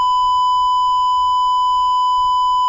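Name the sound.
censor beep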